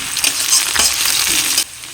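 Onion and garlic paste masala fries in a hot pan with a loud, dense sizzle and hiss, stirred briefly, close up with no voices, dropping away abruptly at the end.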